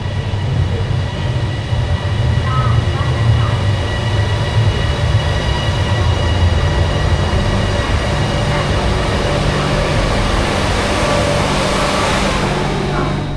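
The Bangkok Airport Rail Link train runs between Phaya Thai and Suvarnabhumi, heard from inside the carriage as a loud, continuous low rumble and hum that stays steady throughout.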